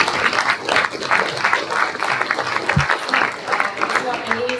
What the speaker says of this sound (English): Please join me in giving John a round of applause